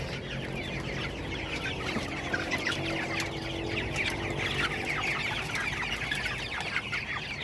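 Several chickens cluck steadily in a noisy coop, with busy overlapping calls close by and a constant low background hum.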